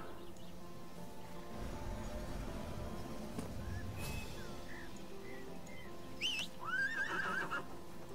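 A horse mount in the online video game ArcheAge neighing, a faint game soundtrack underneath before a clear whinny rises near the end.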